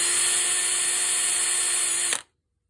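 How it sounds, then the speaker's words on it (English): Loud, high-pitched whine of a drill fitted with a small wire-brush or Dremel-style attachment cleaning the sole of a hand plane, running steadily for about two seconds before cutting off abruptly into silence. "if you've got a drill, you can get you one of these little attachments for it, which is probably also a Dremel attachment"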